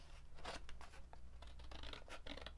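Scissors snip through scored paper card while making a wrap gift box, a run of several close, crisp cuts with brief pauses between them over a low background hum.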